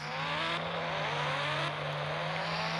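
Two Honda motorbikes ridden together give a steady, loud engine drone with a constant low hum close by, while a higher whirring tone shifts slightly partway through, and nobody speaks.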